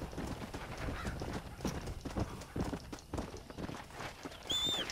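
Horse hooves clip-clop at a steady walking rhythm in Red Dead Redemption: Undead Nightmare, close and fairly loud, with a brief high whinny-like tone near the end.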